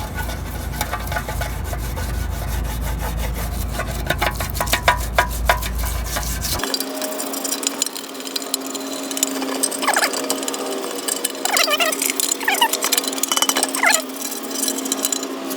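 Old gasket material is scraped and rubbed off a Toyota/Lexus oil pan with steady rasping strokes, a low rumble fading out partway and leaving brighter scraping and squeaks.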